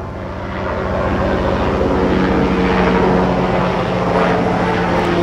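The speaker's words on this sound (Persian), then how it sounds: "اجازه بدین هلیکوپتر رد شه" A helicopter flies past overhead, a loud, steady rotor and engine roar that swells in over the first second and stays strong and close, with no voices.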